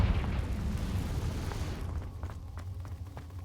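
A Confringo fire spell from Hogwarts Legacy bursts in a loud, rumbling explosion that fades over about two seconds, followed by faint scattered clicks and debris in a quieter game ambience.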